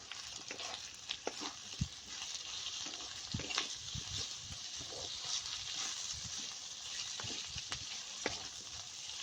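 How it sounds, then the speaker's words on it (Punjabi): Long-sliced onions roast in spiced masala for a dry cabbage-potato dish, giving a steady low sizzle with occasional soft stirring clicks and scrapes throughout. "ਇਹਨਾਂ ਨੂੰ ਵੀ ਆਪਾਂ ਮਸਾਲੇ ਦੇ ਵਿੱਚ ਭੁੰਨ ਲੈਂਦੇ ਆ"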